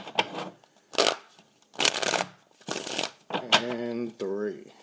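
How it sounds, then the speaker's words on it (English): Tarot cards riffled several times in quick bursts, close and crisp, with a person talking between the shuffles. "Let's do 3 shuffles."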